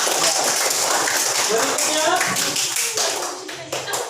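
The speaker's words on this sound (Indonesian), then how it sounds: "berikan tepuk tangan." Students in a classroom clap for a group: steady, fairly close applause from many hands, with a voice speaking over it near the end.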